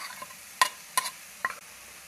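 Ginger garlic paste fries with golden onions in a pan, a low sizzle broken by three or four sharp scraping stir strokes spaced irregularly, close and moderately loud.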